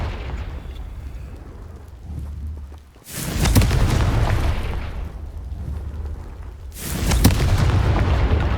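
Two heavy explosions from the Confringo spell in Hogwarts Legacy, each a sudden loud booming blast followed by a rumbling, crackling decay, about four seconds apart, over a low game ambience with no speech.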